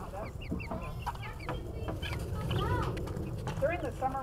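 Tiny chick chirps, several short high peeps scattered through, over background nature sounds and clucking fowl nearby, with talk present.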